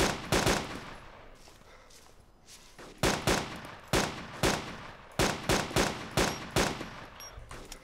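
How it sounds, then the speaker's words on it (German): Gunfire in the DayZ Epoch video game: a short burst of rapid shots, a pause, then repeated evenly spaced single shots, loud and close with no talking. "Ich versuche einen Greifen kaputt zu schießen."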